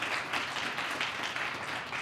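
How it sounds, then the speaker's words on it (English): Steady applause from an orchestra audience at a panel discussion, a dense wash of many hands clapping continuously at moderate level with no one speaking. "we can give a round of applause"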